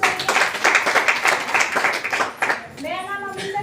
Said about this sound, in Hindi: एक बार अपने लिए जोरदार ताली होना चाहिए।